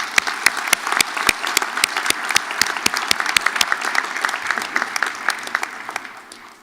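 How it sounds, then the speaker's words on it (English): An audience applauds the honor guards, including a Marine Corps League Detachment 1399 Honor Guard, at a 2018 inauguration ceremony: dense, loud, sustained clapping that gradually thins and fades toward the end. "Let's give them a nice hand of applause."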